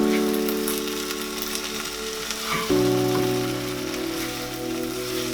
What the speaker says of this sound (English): we'll cook this till all the vegetables are very well done and the oil separates from them